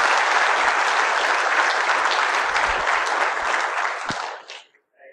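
A crowd applauds loudly and steadily to welcome Major General Fogarty onstage at a Cyber Center of Excellence event, the clapping holding dense and even before tapering off and stopping near the end.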